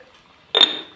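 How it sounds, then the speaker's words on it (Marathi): Water poured into a pot of Malvani-style fish curry with clams and potatoes, a sudden splashing gush starting midway and tapering off, close and fairly loud after near silence. "थोडासा पाणी घालतं"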